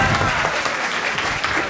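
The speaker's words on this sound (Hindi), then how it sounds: "480 रुपए की जोरदार तालियां।" Enthusiastic applause from a classroom of students, dense continuous clapping filling the room for under two seconds.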